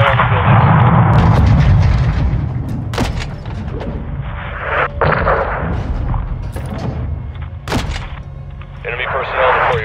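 Gunfire rains on a building during a Call of Duty Modern Warfare 2 mission, with loud sustained bursts and heavy booming impacts across the whole stretch, mixed with background battle noise.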